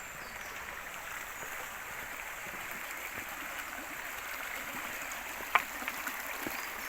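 Steady wash of river water flowing over a shallow old ford where a rural track meets the river, a continuous even rush heard alone at moderate level with one brief sharp tick near the end.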